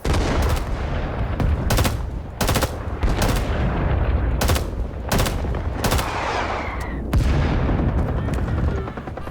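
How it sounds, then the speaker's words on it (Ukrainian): Rapid gunfire bursts and explosive grenade-launcher blasts from the Vietnam War shooter Rising Storm 2: Vietnam, loud and dense, with repeated sharp volleys through a continuous din of battle. "гранатометник просто випалює капітально"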